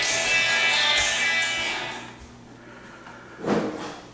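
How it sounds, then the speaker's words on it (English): A door in a newly bought house in Tennessee is opened and closed, a close scraping slide followed by a soft thud near the end, with no talk over it. "open and close the door"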